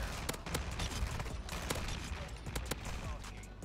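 TEC 9 hipfire in Call of Duty Modern Warfare II: a quick run of sharp shots, several rapid cracks close together, sitting fairly low in the mix amid game noise.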